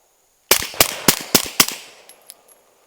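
A quick string of five sharp suppressed gunshots fired at an outdoor shooting range, each crack followed by a brief echo, ending in quiet with faint clicks.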